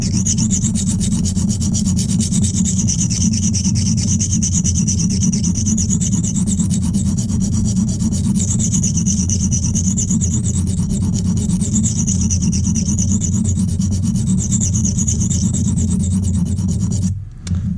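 Continuous coarse rasping of a stone rubbed back and forth on a silicon carbide sharpening stone, loud and close, steady rhythmic scraping throughout.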